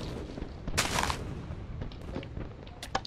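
TNT cannon blasts in a Minecraft battleship PVP match, a burst of loud explosive booms near the start followed by scattered sharper pops over a low rumbling background.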